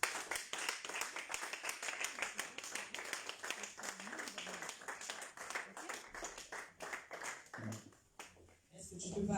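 A church congregation claps in a fast, steady rhythm while praising God, the sharp handclaps dense and lively throughout, with voices mixed in beneath before the clapping thins out near the end.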